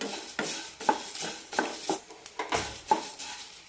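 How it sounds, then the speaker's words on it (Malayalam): Coriander seeds dry-roasted for homemade garam masala, stirred in a pan with rhythmic scraping sweeps and light rattles of seeds against metal, about eight strokes, close and fairly quiet. "മല്ലി വറക്കാൻ മാത്രമേ മൂന്നാല് മിനിറ്റ് വേണ്ടി വരും"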